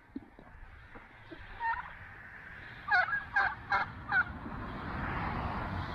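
Turkeys gobble in a burst of four quick calls, fairly near, over a constant low rumble of outdoor background noise.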